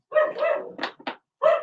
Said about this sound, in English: So if you can hear my dog barking, that means there's someone at the door.